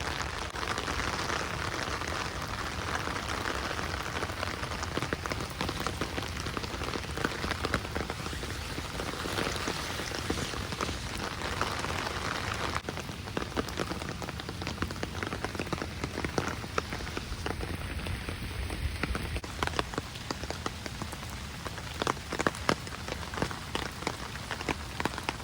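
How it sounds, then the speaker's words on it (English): Heavy rain pours down during an outdoor walk, a dense, steady patter of drops hitting surfaces all around, close and continuous throughout. "absolutely raining heavily. I'm out for a walk in the rain to record this video"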